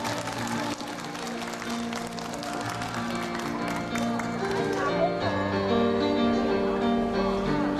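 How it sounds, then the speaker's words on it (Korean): An outdoor crowd at a disability association singing event in Marronnier Park applauds a celebration, steady clapping throughout with music and a voice over it. "여러분 큰 박수로 좀 축하 좀 해주세요"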